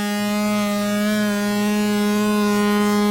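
A sustained note from the Serum software synthesizer with its oscillator phase adjusted: a bright, buzzing, harmonically rich tone held steadily for about three seconds, loud and alone.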